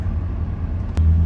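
Deep engine rumble from an accelerating BMW 630i coupe, steady at first, then swelling louder just after a brief sharp click about midway through the short burst. No voices.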